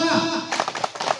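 A rhythmic clapping chant from a group of village mothers at a community welfare meeting, a few sharp evenly spaced claps following a brief spoken lead-in, close and moderately loud.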